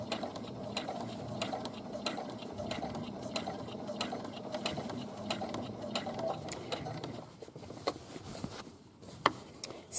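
A sewing machine stitches along a patch pocket on a pair of shorts, a steady close mechanical whirring with regular clicking ticks throughout, thinning out and stopping near the end.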